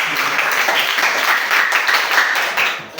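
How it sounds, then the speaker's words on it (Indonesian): A classroom of students applauds, a dense, fairly loud burst of clapping hands that continues steadily for a few seconds and tapers at the end. "Silakan berikan tepuk tangan."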